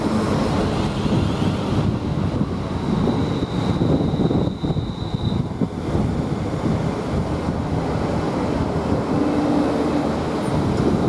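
A British Rail Class 350 electric multiple unit, 350-109 leading with 350-113 on the rear, stands at Coventry station, giving a steady broadband rumble with wind buffeting the microphone and a faint high whine, continuous throughout.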